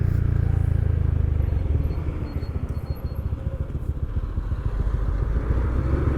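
A group of four motorcycles, including a PCX160 scooter, rides along an expressway, their engines producing a steady, close, continuous rumble with wind and road noise throughout.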